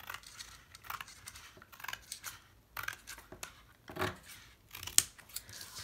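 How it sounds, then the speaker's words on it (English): Scissors snip through cereal-box cardboard again and again at an uneven pace. The cuts are quiet and close, with soft rustling between them. "using my scissors, I'm gonna cut on that straight black line"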